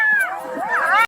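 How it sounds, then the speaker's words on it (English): A fox gives a single drawn-out, wavering howling call, close and loud, sliding up and down in pitch before cutting off abruptly. "Fox."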